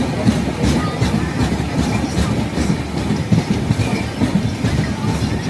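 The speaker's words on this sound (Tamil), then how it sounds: "இந்த ரயில் நிலையத்தில் சுமார் 2 நிமிடங்கள் ரயில் நின்று செல்லும்." Pallavan SF Express train at a station, carriages rolling with a steady, loud rumble and rhythmic wheel clatter throughout, with no talking over it.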